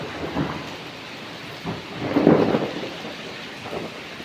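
Thunder rumbles in a low, rolling wash during an unseasonal rainstorm, with steady rain falling throughout and a heavier crack swelling near the middle before fading.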